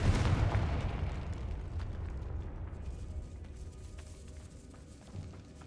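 A Confringo spell explosion in the Hogwarts Legacy video game, set in a decaying catacomb: a loud, broad boom at the start that rumbles and slowly fades over several seconds, with scattered crackling debris.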